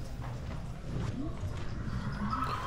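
Horses ridden around a horse auction arena before the sale, their hooves giving a soft, faint clip-clop that stays low and steady throughout.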